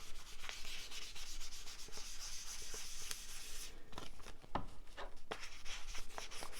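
Ink being rubbed over braille-textured paper to distress it, a soft, dry, continuous scratchy rubbing with quick repeated strokes, close and quiet with no talking.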